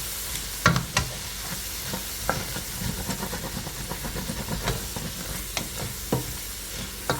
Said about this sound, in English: we're going to scrape the bits, because that flavor